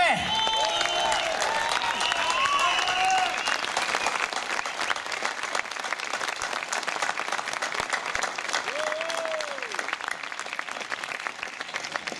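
A crowd at a banjo festival applauds a bluegrass band on stage, with steady dense clapping filling the whole stretch and a few whoops rising early and again near the end.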